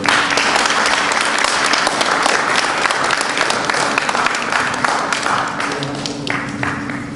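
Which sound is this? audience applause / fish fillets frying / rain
audience applause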